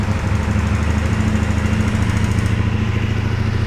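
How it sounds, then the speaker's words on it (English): A 2023 CFMOTO 450SS motorcycle engine idles steadily up close with a slight lifter tick, a dense, continuous low thrum with an even, unbroken rhythm and no talking. "Little lifter tick, nothing major."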